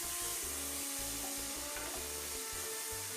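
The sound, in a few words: onions and tomatoes sautéing in a pan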